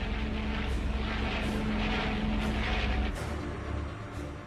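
German bombers flying on a raid against Soviet aerodromes, a steady loud engine drone with a low propeller hum, holding constant and easing off slightly toward the end, no voices.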